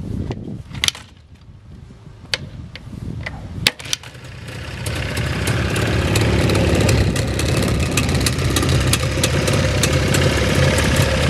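A motorcycle engine idles with a low, steady rumble that swells and holds after a few sharp clicks and knocks at the start.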